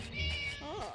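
In the Scary Teacher 3D video game, a cat gives a single drawn-out meow with a rising and falling pitch, clear and close, over a dull background rumble.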